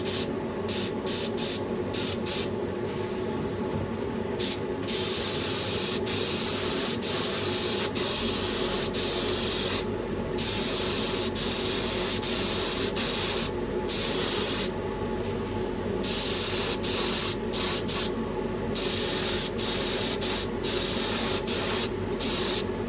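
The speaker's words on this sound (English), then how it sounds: "I could do this with the airbrush, but my gun's already dirty, so I may as well use it." Paint spray gun hissing as it coats a brown trout fishing lure, a close, steady airy spray broken into short and long bursts with brief pauses between passes.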